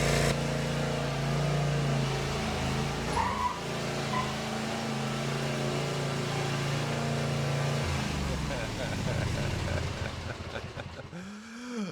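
Kawasaki FR691V engine running steadily with an upgraded air filter, a constant close hum with tonal drone that shifts slightly partway through, then winds down near the end.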